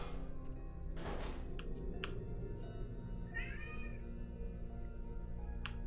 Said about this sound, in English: Yeah, that's my cat.